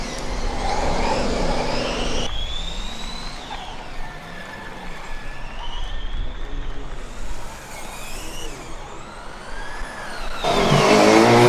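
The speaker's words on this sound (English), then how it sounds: "I hear a very loud combustion engine starting again." A Formula Student race car with a combustion engine, number 399 from UAS Karlsruhe, roars past during an endurance event, the engine loud and revving with pitch sweeps as it accelerates and shifts, alone without talk.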